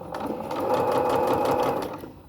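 A sewing machine stitches a zipper onto a t-shirt, a close, steady motor whir with rapid needle chatter that swells and then eases off.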